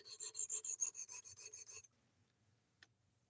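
A knife blade is drawn across a 400 grit whetstone in a quick series of about a dozen rhythmic rasping strokes, close and clear, then stops, followed by near silence and one faint tap.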